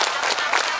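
A seated audience at an Indonesian Islamic sermon claps together on cue in a quick rhythmic burst, loud and close, with no talking over it.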